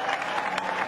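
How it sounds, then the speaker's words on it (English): A cricket crowd at Bay Oval applauds and cheers a six, a dense, steady burst of clapping and crowd noise heard briefly and close. "crowd are loving this"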